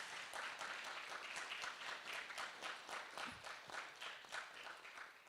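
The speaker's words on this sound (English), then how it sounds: "Can we have a round of applause, please?" An audience applauds panelists at the close of a youth panel session, a soft, distant patter of many hands clapping steadily throughout.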